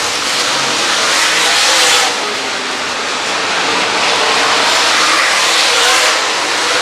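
Race cars roar along the back stretch of the historic State Fair Speedway dirt track in Sedalia, a loud, steady engine drone with a slight swell and fade as they pass.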